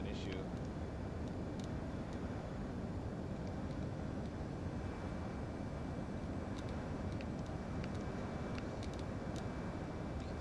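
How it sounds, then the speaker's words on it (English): Full reverse thrust on a Cessna Longitude landing in Microsoft Flight Simulator 2020, a steady loud broadband jet roar with no change in level, faint clicks over it. "I'll just go to reverse, full reverse thrust for stopping"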